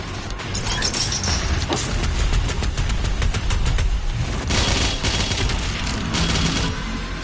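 Rapid rifle gunfire in Doom Eternal, dense bursts of shots with heavy mechanical clatter and crashing impacts, loud and continuous throughout with no talking.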